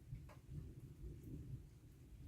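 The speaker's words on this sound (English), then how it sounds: "hear that thunder?" Distant thunder rumbling low and continuous over steady rain in a garden, faint and unbroken for a couple of seconds.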